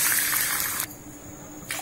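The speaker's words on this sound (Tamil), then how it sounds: "3 கப் தண்ணி ஊத்தி இருக்கேன்" Water gushing from a cup into a cooking pot for upma, a loud pour for just under a second, then a quieter trickle and a brief second splash at the end.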